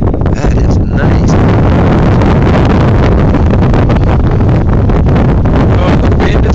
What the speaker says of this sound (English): Oh, the wind is blowing.